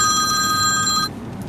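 A phone rings with a bright electronic trill for about a second, then cuts off abruptly, close and clear with no talking over it.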